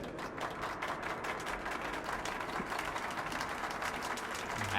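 Crowd applause and cheering in Metro Last Light, filling a theater venue, a steady dense wash of clapping that holds evenly throughout and swells slightly at the end.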